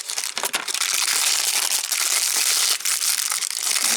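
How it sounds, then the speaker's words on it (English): Tissue paper crinkles and rustles as a G.I. Joe Classified action figure is unboxed, with close, loud, continuous crumpling and sharp crackles throughout and no speech. "We got tissue paper."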